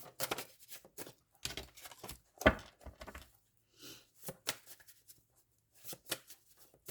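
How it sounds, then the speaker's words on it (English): Tarot cards are shuffled by hand at close range, giving soft scattered riffles and taps in short uneven bursts with quiet gaps between them. "I'll just give these a quick shuffle."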